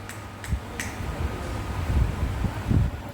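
Three quick, sharp finger snaps crack out at the start, clear and separate, over a faint hum of fan-like background noise, with some low thumps later and no one speaking.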